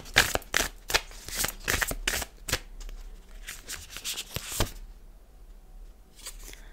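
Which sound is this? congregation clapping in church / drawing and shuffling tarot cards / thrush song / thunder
drawing and shuffling tarot cards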